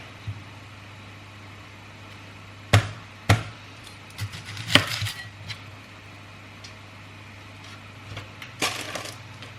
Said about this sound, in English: This onion does not look great. I'm gonna cut into it and see if it's good.